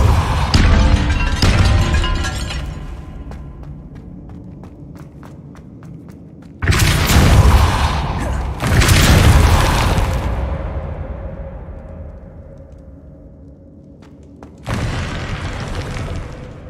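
Depulso spell blasts in the video game Hogwarts Legacy land as loud, booming bursts, a cluster at first and then two heavy blasts in quick succession with a later one, each decaying into rumbling debris.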